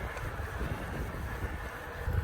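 Steady wind roaring over a cyclist on a bicycle crossing Canada, east of Banff after leaving the Rockies, riding into a headwind; a continuous low rumbling buffet of wind noise, loud and close, with no talking.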